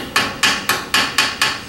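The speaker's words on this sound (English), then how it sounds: "Just real light taps with the hammer there." Six light hammer taps seating the flywheel on a Honda GCV small engine, evenly spaced sharp metallic knocks about a quarter second apart, close and clear with no talking.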